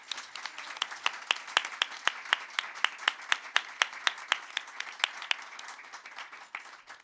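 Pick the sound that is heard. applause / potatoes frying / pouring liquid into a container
applause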